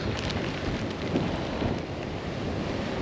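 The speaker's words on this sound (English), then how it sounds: "The rain is starting to be crazy also." Heavy rain pelts down at Lennox Head on the Australian coast, a dense, constant hiss with wind buffeting the microphone, loud and continuous with no talk.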